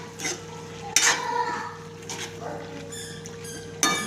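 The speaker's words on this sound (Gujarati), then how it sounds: "શાકને હલાવી દઈએ." A spiced bottle gourd curry with turmeric, chilli and coriander-cumin powder is stirred in a pan at home, giving a few scraping strokes and clinks of a spoon against metal, with two sharper knocks, close and moderately quiet.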